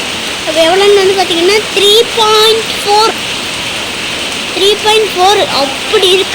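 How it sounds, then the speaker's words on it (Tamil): Heavy rain falls outdoors near trees as a steady, loud hiss that continues under a person talking close by. "தெரியுதா எப்படி மழை பெய்யுது."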